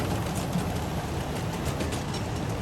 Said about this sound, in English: here comes the 844 again